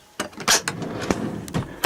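Drawers in the cab of a 2009 Volvo 780 truck slide open and shut in a quick series of nearby clunks, rattles and thumps.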